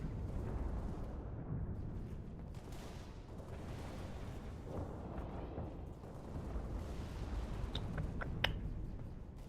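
A Mongoose vehicle blows up during Halo campaign play, a broad, loud rumbling blast that carries through the clip over continuous game noise, with a few sharp metallic pings near the end.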